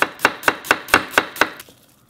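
A kitchen knife chops onion on a cutting board for japchae, seven crisp, evenly spaced strokes in quick rhythm, close and clear, then a brief quiet tail.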